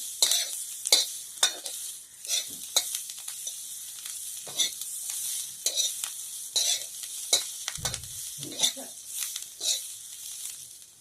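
Chillies roast in a hot pan with a continuous close sizzle, broken by repeated scraping strokes as they are stirred and turned, with no voices.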